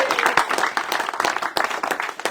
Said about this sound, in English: A big round of applause for Alan the auctioneer.